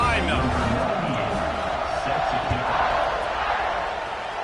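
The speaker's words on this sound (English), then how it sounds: "this crowd now ready to get behind them" A stadium crowd at a UCLA versus Notre Dame college football game roars as the kickoff nears, a broad, sustained wash of distant cheering, steady and full throughout.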